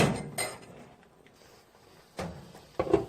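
Onions are scooped from a pot of pork rib hangover soup, with a few sharp clinks and knocks of a utensil against the pot separated by quieter stretches, close and fairly loud.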